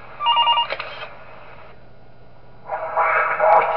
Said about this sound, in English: Okay, we get a phone call?